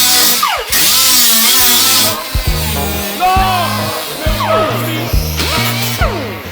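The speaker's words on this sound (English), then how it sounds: "you use this, it's like a grinder, and it's just to equalize the hole" A grinder smooths the edges of a freshly cut window hole in a van's metal body. Loud whining passes pitch up and down in short repeated strokes, separated by brief lulls.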